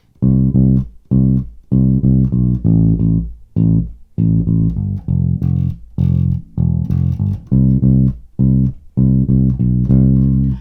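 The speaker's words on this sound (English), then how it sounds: "So that 4-bar bass line sounds like this." Plucked bass guitar notes move through the four-bar bass line of a song, mostly short notes in quick groups with a few sustained ones, played alone.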